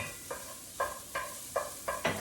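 Garlic is stirred in a pan while cooking sweet potato hash, giving about six soft scraping strokes at an even rhythm. Faint and close, over a light sizzle, with no voices.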